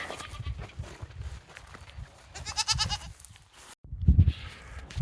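Baby goats on a farm bleat in short, fairly close calls, a few cries spaced across a quiet background with some shuffling and low thumps.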